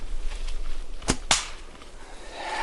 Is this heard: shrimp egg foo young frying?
no